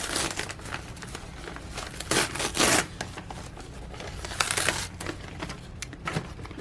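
Tearaway embroidery stabilizer is pulled off stitched fabric in a string of crinkling, rasping tears, with louder rips in bursts and quieter rustling between them. Nobody speaks.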